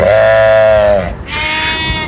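A ram lamb about 92 to 93 cm tall bleats loudly and close by, giving two long, strained calls one after the other.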